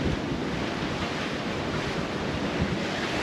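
Choppy sea with one to two meter waves slapping a sailboat on open water near St. Vincent, under constant loud wind buffeting the microphone, a dense unbroken roar with no talking.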